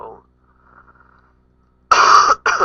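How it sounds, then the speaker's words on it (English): Two loud, harsh coughs from a person with a cold burst out close by near the end, after a stretch of soft talk and near silence. "sorry about the coughing"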